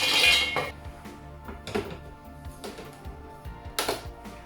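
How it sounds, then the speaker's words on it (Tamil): Warm roasted almonds dropped into a grinder cup: a rattling pour at the start, then several separate clatters and clinks of nuts and utensil against the cup, close and sharp, no speech. "இப்போ நான் கிரைண்டர் கப்புக்குள்ளே போடுறேன்."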